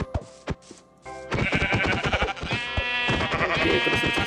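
Sheep bleats in the Minecraft video game in hardcore survival mode come as a few short, loud calls, followed by a denser run of bleating with game sounds close up and no talking.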